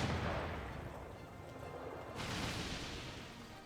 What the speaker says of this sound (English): it's the bombardment of the French.